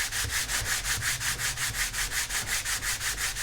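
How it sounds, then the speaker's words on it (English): Steady, rhythmic back-and-forth light sanding strokes with fine sandpaper on an Estes Mini Der Red Max model rocket, about five per second, a soft raspy scratching up close with no talking. "take some fine sandpaper and just do a little bit of light sanding over the top"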